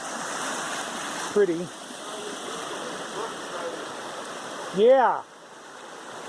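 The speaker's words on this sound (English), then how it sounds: "But look at the like little waterfall, and isn't that so" A small waterfall beside a hiking trail in the Smokies on the Appalachian Trail, a steady broadband rush of falling water running throughout, with brief voices speaking over it.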